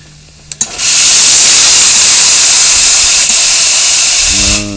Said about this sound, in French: Je sais pas si on voit trop la vapeur là. Je vais appuyer encore une fois.